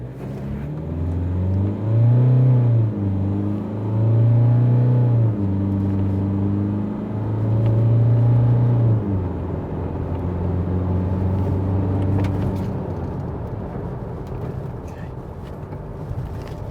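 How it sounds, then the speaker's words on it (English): A 2022 Mazda BT-50 ute with the 1.9-litre engine accelerates hard from 0 to 100 km/h, its engine revving up through several distinct gear changes, loud and close, before settling into a steady cruising drone. "Mazda doesn't have an official 0 to 100 time, but this is how it went up against our stopwatch."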